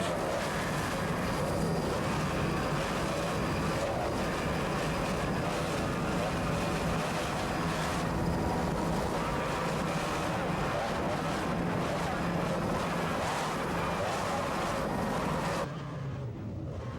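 Pro Stock racing powerboats powered by 32.5 EFI outboard engines roar steadily with heavy wind buffeting, a continuous loud engine drone that drops away near the end.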